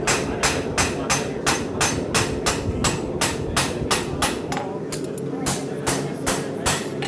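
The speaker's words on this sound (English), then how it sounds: "Hit it one more time with a punch." Sharp metallic hammer strikes on a punch against a horseshoe ring out in a fast, steady rhythm, about a dozen blows, then continue more sparsely, close and loud.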